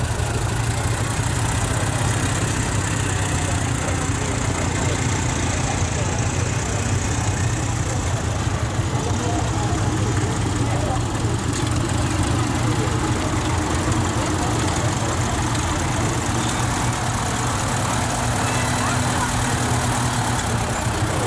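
Vintage tractor engines idling at the Ashby Show parade outdoors: a steady low rumbling drone throughout, with a voice talking over it.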